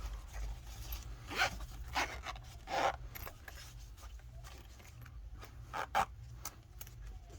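A zipper being fitted onto a coin purse gives soft, intermittent rasping zips and small clicks at close range, quiet and without talk.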